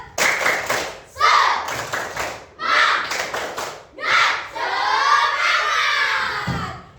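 Children in a classroom performing the tepuk semangat clapping chant, loud bursts of group clapping alternating with shouted chanting in a rhythmic call pattern, ending in a long sustained shout.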